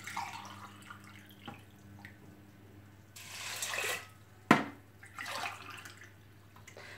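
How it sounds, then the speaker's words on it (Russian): Water poured from a glass over pearl barley in a cooker pot, a soft running pour that swells for about a second, followed by a sharp clink and another shorter pour, fairly close with no talking. "поэтому два таких же не полных стакана я заливаю воду"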